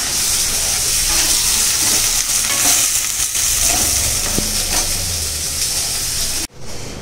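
Garlic paste with salt, turmeric and chili sizzles loudly in hot oil, a steady broad hiss with occasional stirring scrapes, cutting out abruptly near the end.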